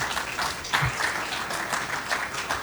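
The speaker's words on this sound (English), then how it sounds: "A big round of applause." A large ceremony audience at Osu Castle in Ghana applauds in a sustained, fairly loud wash of clapping with a few sharper claps standing out, and no speech on top.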